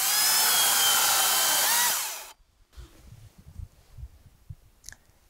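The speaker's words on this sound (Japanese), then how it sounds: "じゃあこの 40V でこれやって切ってみたいと思います。" Makita 40V cordless chainsaw (MUC008G) cutting, a loud, close, steady high-pitched whine for about two seconds that stops abruptly, followed by quiet handling knocks and rustles.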